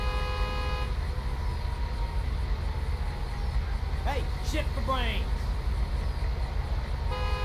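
A fire truck horn in a video game sounds in short bursts over a steady background rumble, with someone shouting loudly over it.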